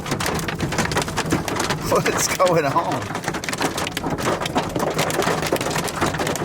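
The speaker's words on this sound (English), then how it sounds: "A little Nebraska hailstorm real quick." Steady patter of rain and hail from a Nebraska hailstorm rattling down nearby, a dense hiss throughout, with a brief spoken question partway through.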